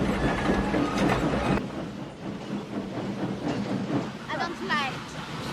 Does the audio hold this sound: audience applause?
no